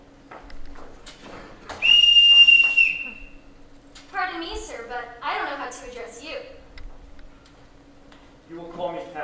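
A whistle is blown once in a high school stage production of The Sound of Music, a loud, sharp, steady blast of about a second that ends in a falling slur. Actors talk on stage around it.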